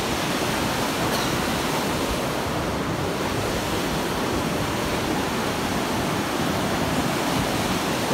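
A river flowing beneath a bridge in a deep gorge in Nepal, a broad continuous rush of water that stays loud and unchanging from start to finish, with no voices.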